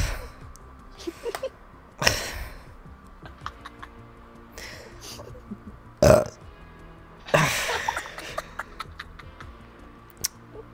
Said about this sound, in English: I laugh at burps.